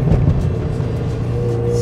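A classic Ferrari 328 engine gives a steady, deep mechanical rumble at a constant idle or low cruise, close and fairly loud, with no talking.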